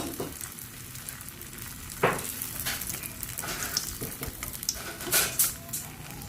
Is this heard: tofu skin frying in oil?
yes